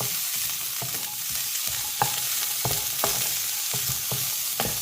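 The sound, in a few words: coconut sautéing in pan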